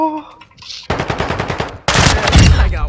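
Video game gunfire comes as rapid machine-gun bursts, loud and close, with a short pause between two volleys and a sustained blast at the end.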